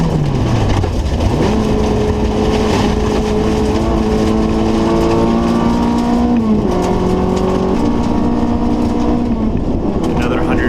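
A rally race car engine at speed drones loudly and continuously, its pitch climbing steadily and then dropping at each gear shift, with the pattern repeating across the run while someone talks over it.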